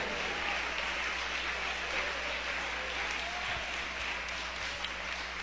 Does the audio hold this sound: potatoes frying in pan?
no